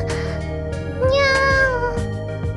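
A person imitates a cat's meow, a drawn-out, rising and falling nyaa with harmonic tones, voiced close and clearly alone, with a short softer call at the end.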